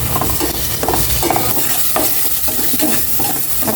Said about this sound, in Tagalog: Gisa-gisa ko muna to.